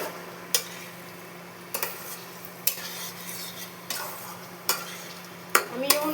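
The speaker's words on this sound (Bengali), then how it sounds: "এর মধ্যে সেদ্ধ করা লতিটা দিয়ে দিচ্ছি।" Boiled taro stolons going into a small amount of bubbling liquid in a pan, with a soft simmering hiss under repeated sharp scrapes and clinks of a utensil stirring against the metal, spaced about a second apart.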